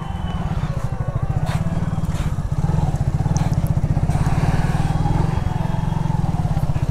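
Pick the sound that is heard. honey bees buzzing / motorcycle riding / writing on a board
motorcycle riding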